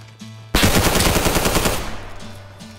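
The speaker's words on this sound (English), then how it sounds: "so I went for the shots I heard nearby." Rapid burst of automatic gunfire in the DayZ video game, loud and close, erupting suddenly after quiet ambient sound and rattling on for over a second before fading into a lingering echo.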